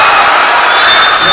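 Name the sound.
basketball arena crowd cheering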